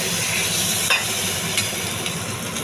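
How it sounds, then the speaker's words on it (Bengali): Jackfruit curry spices sizzle loudly and steadily in a pan as a little water is added, with a few faint stirring clicks over the continuous hiss and no talking. "এবার আমি অল্প জল দিয়ে"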